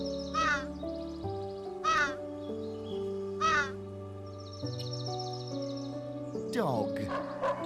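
Three spaced, hoarse raven caws ring out at a slow, even pace, near and clear, with a rougher squawk near the end, all over a sustained musical backing.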